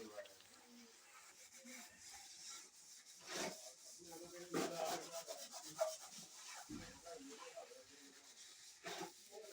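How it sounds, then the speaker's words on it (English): An old scrubber rubs and scrapes against a cooking pot (sufuria) in a village kitchen, giving a run of rough, uneven scrubbing strokes at close range with some faint talk behind them. "I have to wash it like so. And I'm going to use this scrubber here."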